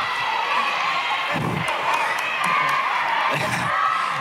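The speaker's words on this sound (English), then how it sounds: "Greyhounds actually have had probably their best crowd all year, actually making some noise and trying to affect the free throw shooting of West Valley" A home crowd at a girls' high school basketball game roars and whoops continuously during an opponent's free throw, loud and sustained with swells of shouting throughout.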